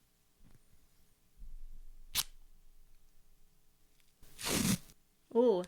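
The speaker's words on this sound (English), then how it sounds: "that sound of the tape coming off the roll" Athletic tape is torn off its roll in two close, sharp bursts: a brief rip early on and a longer, louder ripping pull later in an otherwise quiet room, with a short voice sound at the end.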